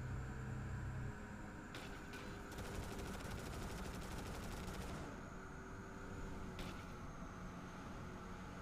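Cannon weapons firing in the BallisticNG futuristic racing game, a faint rapid burst of repeated shots over a steady hum of racing engines, with a couple of brief separate hits.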